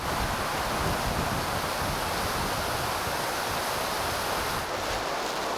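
A dense, constant roar of strong wind in Finnish backcountry forest rushes without pause, broad and loud, with no voices or other distinct sounds.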